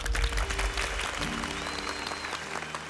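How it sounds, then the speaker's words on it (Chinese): Brief burst of audience applause for a contestant on a singing competition show, dense clapping with background music tones, fading slightly toward the end. "所以我们把掌声献给 Kelly 好不好？"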